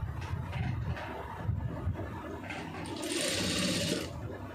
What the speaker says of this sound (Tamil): நான் இப்போ இதே கிளாத்தில் அப்படியே கரெக்டாக மேலே வச்சு தைச்சிட்டு வரப்போகிறேன் இந்த கேப்பில்